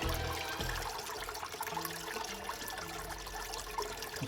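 Water streams steadily across a Miller table used to separate gold from sands, giving a continuous, even wash with a faint low hum underneath and no voices.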